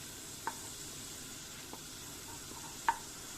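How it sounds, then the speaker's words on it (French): Onions fry in melted butter in a saucepan, giving a quiet continuous sizzle with occasional light taps of a spoon against the pan. "Il faut rajouter les oignons dans la casserole. Laissez dorer les oignons."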